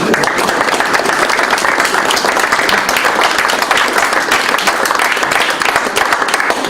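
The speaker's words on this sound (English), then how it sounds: "Firstly, a round of applause." Loud, dense applause from a conference audience at an annual general meeting, steady clapping sustained for several seconds without letting up.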